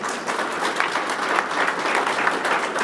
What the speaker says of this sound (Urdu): تالیاں بجائیے